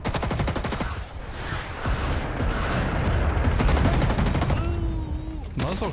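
Rapid automatic fire from an M2 carbine in Rising Storm 2, loud and close, rattling in sustained bursts across most of the clip with battlefield noise behind it.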